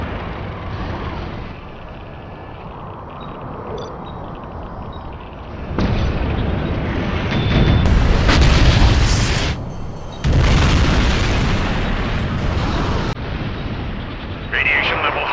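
Heavy cannon booms and explosions rumble in bursts, loud and close, in the video game Shockwave, with the game soundscape and voices mixed underneath.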